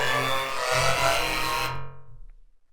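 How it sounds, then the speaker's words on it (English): A gritty, noisy glitchy synth sound from the Octamorph 'dirty glitch' preset roars for nearly two seconds, then cuts off abruptly, leaving a few faint stuttering fragments. "We'll go through dirty glitch."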